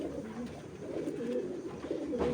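Low, throaty cooing from racer pigeons rolls on continuously and close up, with a slight swell toward the end and no talking.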